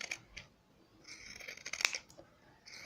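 Scissors snipping through fabric along a stitched seam line while making a sewing project of bunting flags, a few short crisp cuts close by in a quiet room.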